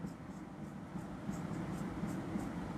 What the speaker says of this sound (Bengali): একটু তাড়াতাড়ি আঁকছি